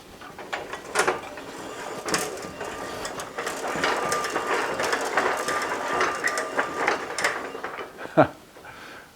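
A Vevor 16-foot ratcheting drywall panel lift raises a board, giving a steady run of mechanical clicking and rattling with a few louder clunks, including a sharp knock near the end.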